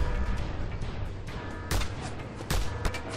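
Explosions boom through Just Cause 2 combat, a couple of sharp, heavy blasts standing out against a rumbling, continuous battle noise.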